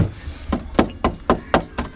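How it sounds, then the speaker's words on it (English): A hammer knocks repeatedly on a rusty car body panel with surface rust, giving seven sharp, evenly spaced metallic taps about a quarter second apart, loud and close. "I'll knock it with a hammer just to double check again."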